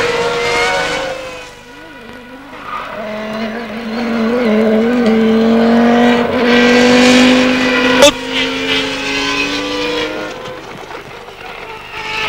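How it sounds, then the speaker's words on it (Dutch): McLaren Formula 1 car spinning at Suzuka in 1999, its high-pitched engine note sliding and wavering as it skids, with a sharp bang midway, under Dutch television commentary. "Is David Coulthard aangespint in uw beeld. Spint en is door."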